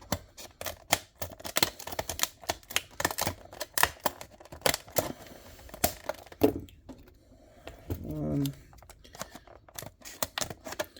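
Scissors cutting open the cardboard and plastic packaging of a diecast toy car, a rapid series of crisp close snips and crackles with a brief crinkling rustle near the end.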